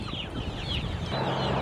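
Backyard chickens cluck softly on a farm, a steady low murmur of clucks from a flock set a little back from the listener. Spring outdoor ambience runs continuously beneath them.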